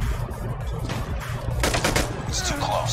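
Bursts of rapid gunfire in GTA, with scattered single shots followed by a denser run of quick shots near the middle, set over a busy game background with faint voices.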